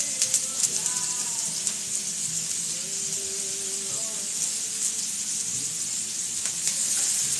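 Onions frying in a pan for pork chops and cabbage, a steady close sizzle and hiss filling the whole stretch, with a few faint clinks and background sounds over it.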